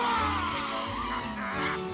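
A car drifts at high speed with tires skidding, a loud, continuous squeal over a deep engine drone that holds steady for the whole stretch with no talk.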